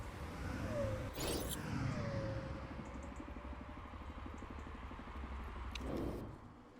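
In the MotorSport Manager racing game, a single-seater racing car engine drones steadily with a rough, pulsing buzz, and two sharp whooshing bursts mark cars passing by, with no talking.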